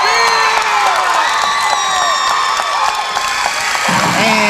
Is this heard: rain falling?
no